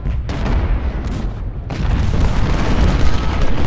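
Cannon shots striking home in the Civil War strategy game Ultimate General: Civil War, heard as a continuous, heavy rumble of booming impacts and blasts that swells slightly toward the end.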